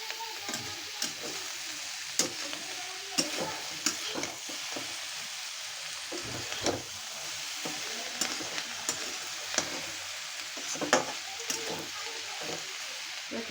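Bitter gourd and green chillies stir-frying in a pan give a steady, close sizzle broken by frequent scraping stirs, with no talking.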